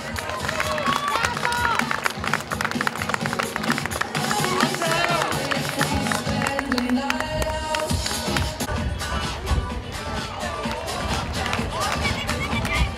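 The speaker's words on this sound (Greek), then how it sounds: "Χειροκρότημα!" Spectators clap for runners finishing the Lefkada half marathon outdoors. Brisk, continuous applause and crowd noise mix with an amplified announcer's voice.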